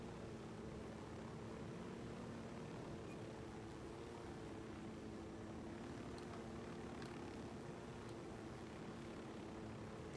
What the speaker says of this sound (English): Yeah, we're taking the chopper over the top of the mountain.